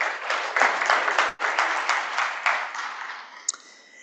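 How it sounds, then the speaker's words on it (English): A conference audience applauds loudly with dense, sustained clapping that fades gradually toward the end, with a short break near the start. "Let's give another round of applause."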